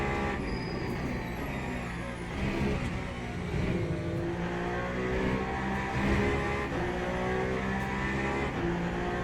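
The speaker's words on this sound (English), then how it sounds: "That's an LMP2, I think. With no rear wing." LMP2 prototype race car without a rear wing in the Le Mans Ultimate racing game, engine revving and shifting as cars pass during the Daytona 24, a continuous layered roar with rising and falling pitch.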